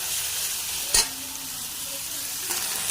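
Chicken fries in a pan with a steady close sizzle, and a single sharp scrape or clatter of stirring cuts through near the one-second mark.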